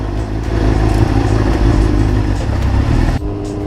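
Motorcycles being wheeled and started as they are taken out of a private garage near a hotel by the Nürburgring in Germany: loud, close engine rumble with idling and light revving and some clatter, cutting off abruptly near the end.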